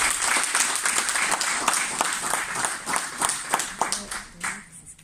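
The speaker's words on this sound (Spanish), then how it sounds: "Un aplauso." Audience applause at a Spanish-language book presentation, a dense burst of many hands clapping that holds steady for several seconds, then thins out and fades near the end.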